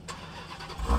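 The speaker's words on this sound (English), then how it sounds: "did you start your car yet?" A car engine starting up, a short faint cranking followed by a low rumble as it catches near the end, heard outdoors at close range.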